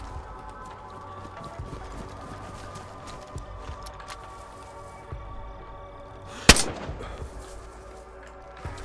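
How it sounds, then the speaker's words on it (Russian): Gunfire in the video game DayZ, with one sharp, loud shot standing out near the end over a low bed of game ambience and footsteps, plus a few fainter distant cracks. "Сзади выстрелы."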